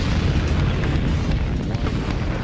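A rocket launch roars as its burning fuel explodes, a loud, steady, rumbling blast that fills the whole stretch without a break.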